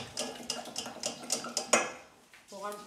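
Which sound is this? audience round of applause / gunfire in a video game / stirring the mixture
stirring the mixture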